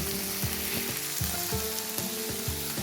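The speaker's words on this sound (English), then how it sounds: "here I was frying my vegetables. So fry them until soft." Carrots, bell peppers, onion and green peas sizzle and crackle steadily in a hot pan, with a rhythmic scraping of a utensil stirring them throughout.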